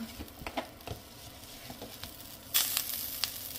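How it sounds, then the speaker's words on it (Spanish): Butter sizzling as it melts in a frying pan for sweet chicken wings, with scattered faint crackles and pops that swell into a louder, steadier sizzle partway through. "Vamos a empezar poniéndole mantequilla"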